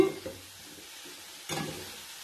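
Shredded cabbage being mixed for Réunion-style vegetable achard, two short bursts of rustling, sizzling stirring with a quiet pause between.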